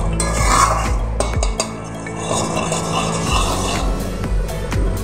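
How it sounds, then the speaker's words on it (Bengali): A spoon scrapes and clinks against a pan while spice paste fries for a potato and pointed gourd curry with soya chunks, giving steady close stirring with sharp metallic knocks over a low frying hiss. "এবার আমি মশলাটা খুব ভালো করে কষিয়ে নেব।"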